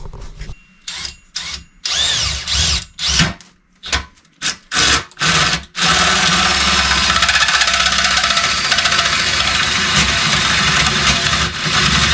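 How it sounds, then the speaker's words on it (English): A power drill starts and stops in several short bursts, then runs continuously, grinding steadily through metal up close and loud. "So let's drill the hole and maybe get this thing welded on tonight."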